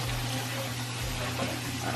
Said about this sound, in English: So I'm just gonna add my water.